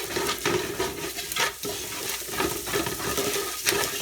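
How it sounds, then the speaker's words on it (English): Sugar being stirred into baked beans in a hot pan, with a steady scraping and gentle sizzle that continues throughout, close and moderately loud. "Give that a nice stir."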